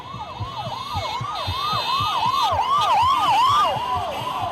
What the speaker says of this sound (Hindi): दौड़ती रही एक एम्बुलेंस, उसमें धड़कता रहा एक दिल।